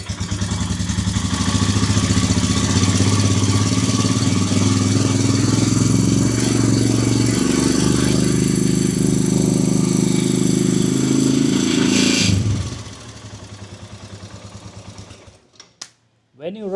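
A Royal Enfield Himalayan 411 motorcycle with a failing charging system revs loudly and steadily for about twelve seconds, then the engine drops back to a quieter idle.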